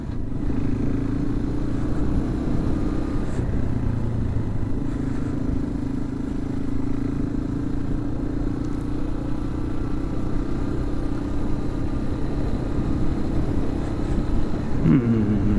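A 2005 Yamaha XT225 dual-sport motorcycle riding through wet sand, its single-cylinder engine a steady, close droning rumble throughout with faint clattering and a brief sharp sound near the end.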